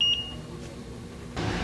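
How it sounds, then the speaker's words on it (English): A multimeter in continuity mode gives a single short, high-pitched beep as the volume-up button on a Motorola G Power 2022 flex cable is pressed. Faint rustling and a brief burst of noise follow near the end. "When we press the volume up button, we hear a beep, indicating the button is working."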